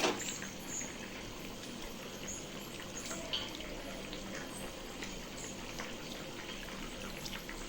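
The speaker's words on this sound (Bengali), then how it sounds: "তো আমি এটাকে এক পাশে রেখে দিচ্ছি জল ঝরিয়ে" Quiet trickle and patter of water draining off boiled soybeans set aside in a strainer, a faint continuous watery hiss with scattered small drips, no voices.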